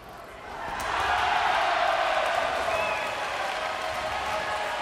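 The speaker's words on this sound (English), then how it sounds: "there's another roar in the crowd" A crowd roars in approval at a Paralympic table tennis match in London, a sustained, swelling cheer that builds after a moment and holds loud, with a commentator talking over it.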